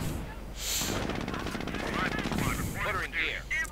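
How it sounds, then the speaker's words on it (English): Machine gun fire from a Jeep in a Panzer-era real-time strategy game, a rattling burst of rapid shots mixed with other battle noise under continuous commentary. "the Panzer gunner is coming under fire from the Jeep"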